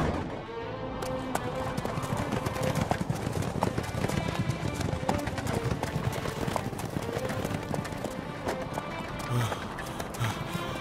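Horses' hooves clip-clop steadily as an army of soldiers rides on a long journey, a dense run of overlapping hoof beats over continuous rumbling movement.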